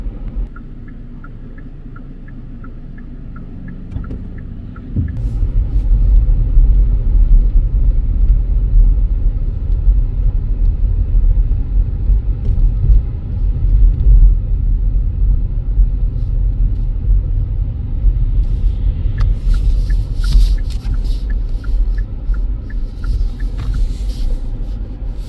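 A car drives through snowy city streets with a steady low engine rumble and road noise that swells after a few seconds and holds loud and even inside the cabin, with no talking.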